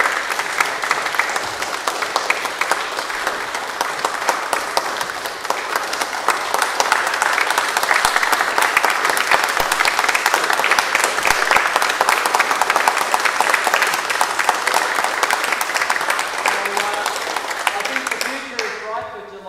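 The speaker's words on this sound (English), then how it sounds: "we'll get all the students to line up and you can give them a big clap" An audience claps for students after an organ concert, a sustained, lively round of applause that carries on at steady strength for most of the clip before tapering near the end.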